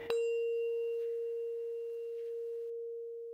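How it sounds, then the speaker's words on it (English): A Rife tuning fork tapped gently with a soft mallet gives one soft strike and a pure, steady tone that rings on for several seconds, quiet and close, with no talking. "normally we'll use them a little with a soft mallet and just a nice gentle sound"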